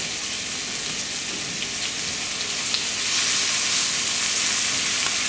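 Ginger and scallions frying in a pan for a stir-fried ginger beef dish give a continuous hissing sizzle that swells louder partway through, with faint stirring underneath and no voices.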